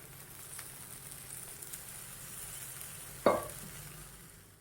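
Oil sizzles steadily in a pan as a fasting thalipeeth flatbread fries, with a sudden sharp burst of crackling near the end when more oil hits the hot surface, then fading back to a soft hiss.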